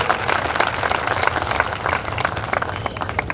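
A crowd at a large public political rally in Bihar claps loudly and steadily to welcome Awadhesh, dense close applause with no pauses.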